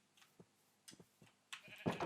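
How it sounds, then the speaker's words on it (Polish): Sheep in the Minecraft video game bleat in several short, separate calls, the last louder and nearer, with quiet gaps between them. "Tu jest druga owca"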